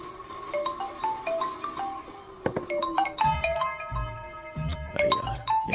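A melodic phone ringtone plays loudly and repeatedly, bright electronic chimes in a looping tune, with a bouncy beat joining partway through.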